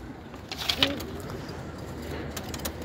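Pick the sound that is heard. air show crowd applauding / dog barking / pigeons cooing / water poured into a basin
pigeons cooing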